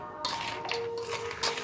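Mango pieces and chickpea-fenugreek pickle ingredients are stirred together in a bowl, giving soft scraping and light clinking strokes, a few distinct bursts in quiet surroundings.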